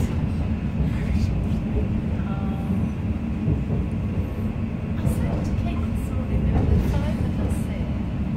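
A London train runs between stations toward Liverpool Street station with a steady, loud low rumble of wheels and carriage noise throughout, plus faint rattles and squeaks.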